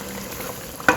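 Fish simmers in tomato sauce in a pan with a soft, steady sizzle, and a brief stirring scrape at the end, close and fairly quiet.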